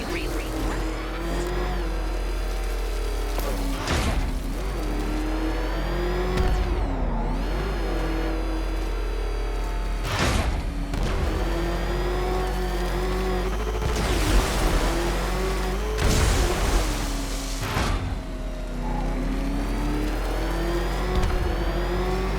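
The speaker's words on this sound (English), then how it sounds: "There's more to this test than just going vroom, vroom really fast." The Batmobile in Batman Arkham Knight, its engine droning steadily and swelling into several loud revs and surges of acceleration, punctuated by heavy thumps over a sustained low rumble.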